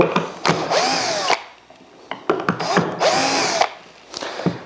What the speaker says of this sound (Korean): 크래그직으로 구멍을 뚫어가지고 결합하는 방식으로